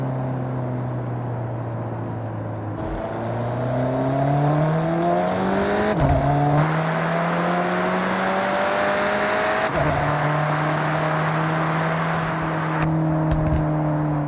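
An Alfa Romeo 4C with a 1.75-liter turbocharged four-cylinder engine of about 240 horsepower pulling hard through several gears, the engine note rising steadily then dropping at each shift, loud and continuous from close by.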